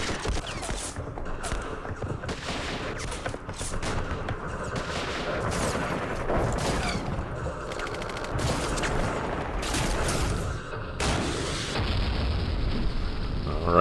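Gunfire from units in the Campaign Series Middle East war game, dense bursts of shots and booming impacts crackling almost continuously, loud and close.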